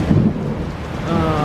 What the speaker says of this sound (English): You just heard the thunder.